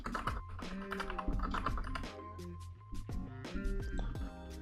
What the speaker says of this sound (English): I don't like this new keyboard, really don't.